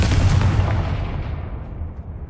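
A Confringo fire curse explodes in Hogwarts Legacy, a single loud booming blast that rolls off into a fading rumble.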